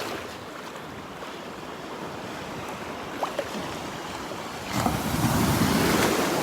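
Ocean surf rolling onto the beach at Delnor-Wiggins, Florida, heard as a steady wash of breaking waves with wind noise on the microphone, swelling louder near the end.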